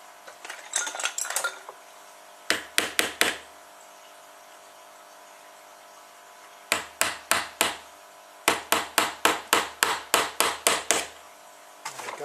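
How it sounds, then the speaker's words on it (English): Sharp hammer blows on wood, hammering a wooden part into a pulley for a spring woodpecker toy, struck in quick bursts of three or four, then longer runs of about seven, with pauses between groups; close and loud. "I'm just going to hammer it into this pulley here"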